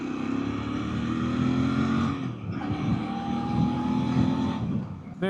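A 2025 Royal Enfield Bear 650 motorcycle riding along, its engine droning loudly with rising and falling revs as gears shift, plus steady wind rush.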